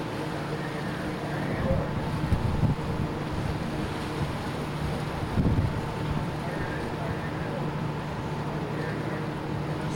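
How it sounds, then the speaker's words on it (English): Steady wind roars across an open microphone aboard a cruise ship with a low rumble and water-like wash, a couple of louder gusts standing out. "It's very windy"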